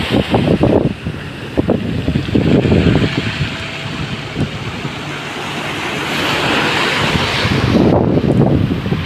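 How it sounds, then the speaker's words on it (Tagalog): Rough sea waves break on the shore in repeated washes of surf, loud and close, mixed with gusts of wind buffeting the microphone. "Dito parte dito, maalon."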